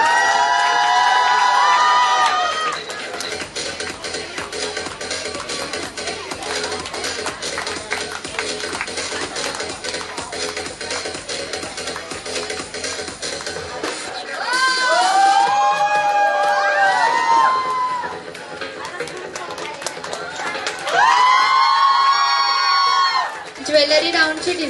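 A crowd at a fashion carnival in Nagpur cheers and whoops in several rising bursts, with shrill high-pitched shouts and clapping over a steady hum of chatter and an announcer's voice.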